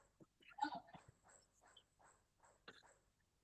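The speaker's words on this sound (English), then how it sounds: "But barking dog, it finds it." A barking dog produced by a text-to-audio model: a quiet run of short, evenly spaced yelping barks, fairly faint and dry, with no other sound around them.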